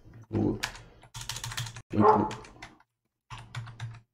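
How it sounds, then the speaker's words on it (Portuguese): A computer alert that plays a dog barking sound: a few short yapping barks in quick bursts, mixed with keyboard typing and a quiet room background. "Esse cachorro latindo aí é, é só o computador reclamando."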